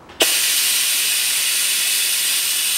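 An oil extraction machine servicing the 1.6-litre engine of a 2011 Nissan Juke is switched on after a soft click and settles into a loud, steady hiss that continues without a break.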